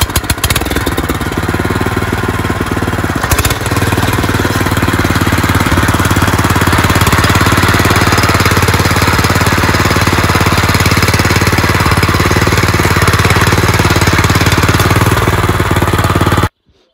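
A light walk-behind tractor hills potatoes, its small engine hammering loud and steady at close range for the whole stretch, with a harsh, rapid pulsing drone and no talk.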